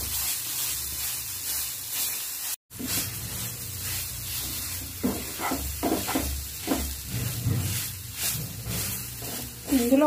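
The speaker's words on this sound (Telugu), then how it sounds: "ఇందులో వాటర్ అంతా పోయే వరకు లో ఫ్లేమ్లో ఫ్రై చేసుకోవాలండి." Moong dal kachori filling frying in a pan on low flame, a soft continuous sizzle and hiss with occasional stirring scrapes, and a person speaking over it.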